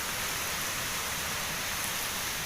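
Heavy rain driven by strong wind pours down in a dense, continuous roaring hiss, loud and unbroken, with no other sounds.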